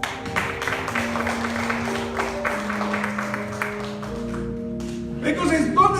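A church congregation claps together over sustained keyboard or organ chords, a steady rhythmic applause with voices underneath.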